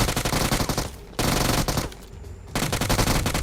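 Automatic gunfire in PUBG Mobile, two loud rapid bursts of shots separated by a short gap, then a third burst, close and dense.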